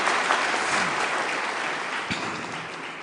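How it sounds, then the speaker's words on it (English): Steady applause from the audience at the University of Nairobi's 68th graduation ceremony, a dense, even wash of many hands clapping that runs the whole time and fades slightly toward the end, with no talk over it. "haven't finished yet, but you can clap"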